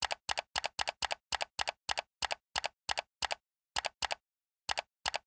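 Typing on a Commodore 64 keyboard: a run of evenly spaced, crisp key presses in pairs, close and loud, with brief pauses near the end and no talking.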